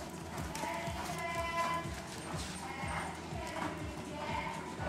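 Hooves clip-clop steadily on the ground during a riding lesson, a continuous close trotting rhythm while an instructor talks over it.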